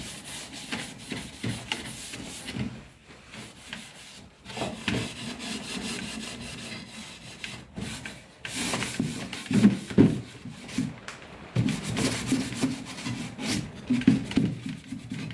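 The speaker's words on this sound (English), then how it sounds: "You could sand with this all day and it's still never gonna get through the wood" Sandpaper scuffs the existing finish on a wooden chair in repeated rough rubbing strokes, close and moderately loud, in uneven bursts with brief pauses between them.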